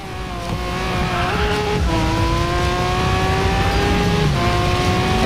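Lamborghini Aventador engine in the Racing Master racing game, a steady loud high-revving drone that drops in pitch at gear shifts and climbs again, with no talking.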